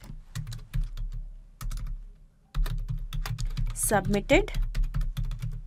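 Rapid clattering keystrokes on a computer keyboard, close and steady with one short pause, while a person speaks briefly over the typing.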